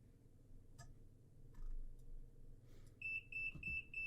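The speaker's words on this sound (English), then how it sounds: "That way we won't keep getting the alarm go off." A cab alarm in Train Simulator 2020 sounds repeated bright electronic beeps in a steady pulsing rhythm over low engine rumble, starting partway through and continuing to the end.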